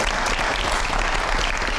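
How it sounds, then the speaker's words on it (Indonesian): A studio audience claps steadily for a couple of seconds, a dense, even burst of applause. "kita tepuk tangan dulu dong"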